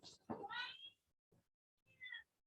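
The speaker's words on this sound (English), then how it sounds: "I'm just going to mute my mic for the crazy Rufus crying" A cat meows loudly close by, a long wavering cry followed after a pause by a second, shorter meow, with near silence between the calls.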